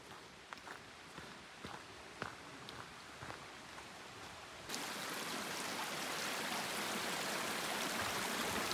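River water rushes at a crossing on the Pacific Crest Trail, first a faint flow beneath a few scattered footstep-like crunches, then abruptly a loud, close, continuous roar as the water comes near.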